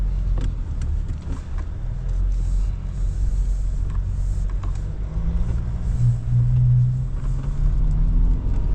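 An LDV Terron 9 ute in manual mode accelerating hard from 0 to 100 on a wet road, a steady low engine rumble heard from inside the cabin, the tone climbing in pitch toward the end.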